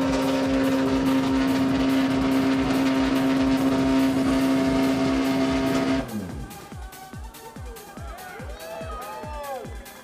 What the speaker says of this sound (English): de esta manera es como se escucha el motor de un glorioso y maravilloso Ferrari